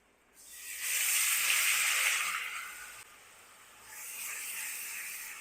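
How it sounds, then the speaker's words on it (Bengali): Onion paste fries in hot oil in a pan for a Bengali tangra fish curry, giving a loud steady hissing sizzle that swells, eases briefly, then surges again with no talking. "পেঁয়াজটা কাঁচা গন্ধ যাওয়া পর্যন্ত ভালো করে ভেজে নেব।"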